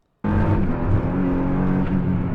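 A Praga Bohema hypercar roars past loud and close, its engine note bursting in abruptly and holding a dense, sustained rumble for the whole stretch with no talk over it.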